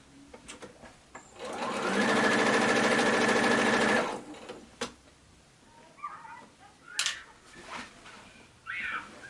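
Sewing machine stitching a zig zag quilting pattern with a standard foot, a loud steady whir lasting about two seconds, then quiet clicks and fabric rustling as the work is pivoted, with a brief voice near the end.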